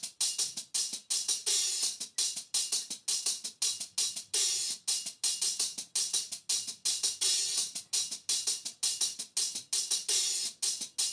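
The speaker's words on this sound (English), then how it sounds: "I did some live style hi-hats," Live-style hi-hats programmed in FL Studio for a hip hop beat, a rapid, crisp run of bright ticks and short open hits in a steady swinging pattern, played alone at moderate level.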